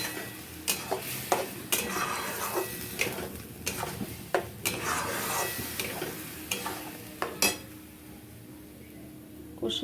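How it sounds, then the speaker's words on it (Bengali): Spice paste being stir-fried in a pan for a Bengali chicken dish, a quiet sizzle punctuated by repeated sharp clinks and scrapes of a utensil against the pan at an irregular rhythm. "ভালো করে মশলাটা কষতে হবে"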